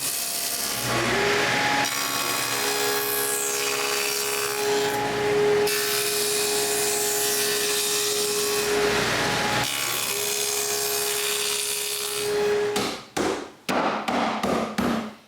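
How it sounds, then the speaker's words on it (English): A rabbet is cut in cedar wood for a patio table with a steady, abrasive cutting and rubbing sound and a faint tonal whine, ending in a burst of quick taps, close up and without speech. "And cut a rabbet at both ends."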